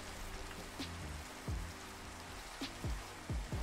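Steady rain falls in the Minecraft video game, a constant soft hiss with occasional louder low drips and thuds throughout, no talk.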